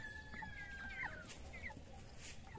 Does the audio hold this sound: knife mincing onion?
no